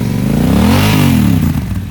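Revving 2013 Yamaha Super Tenere 1200cc adventure tourer, shaft drive and fuel injected, through an aftermarket Two Brothers exhaust: a loud, close, steady engine note rising and falling once in pitch, with no talk.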